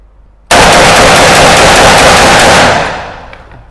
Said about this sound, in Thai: รัวไปเลยนะครับ สาดไปเลย10นัด ดูการทำงานของปืนนะครับ